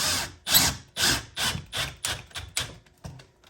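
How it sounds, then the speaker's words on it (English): A drill drives a screw in a series of short bursts, about eight whirring pulses that gradually weaken, close by. "When it comes to pocket screws, you should always use a regular drill"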